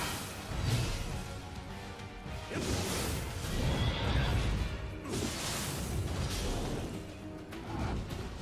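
A horse in the video game Nioh 2 whinnies loudly several times over a busy backdrop of crashing, clattering game noise, with the neighs rising and falling across the stretch.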